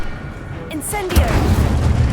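An Incendio fire spell goes off in Hogwarts Legacy combat, a brief swishing cast followed by a booming fiery burst that rumbles on loudly under the ongoing game noise.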